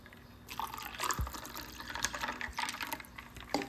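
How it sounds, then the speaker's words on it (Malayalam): Water is poured into glasses already holding ice cubes for orange lemonade, giving soft trickling and dripping splashes with a few light clinks, fairly quiet and close, with no talking. "ഇനി ആവശ്യത്തിന് വെള്ളവും ഒഴിക്കാം"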